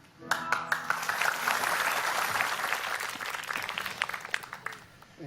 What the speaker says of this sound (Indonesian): beri tepuk tangan yang paling meriah dulu untuk mereka bertiga